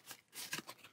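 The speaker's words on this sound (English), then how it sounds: "Give this a shuffle." Aquatica board game cards are riffled and shuffled in a few quick, crisp bursts, close by and fairly quiet, with no talking.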